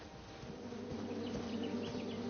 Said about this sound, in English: Shame about that buzzing beehive,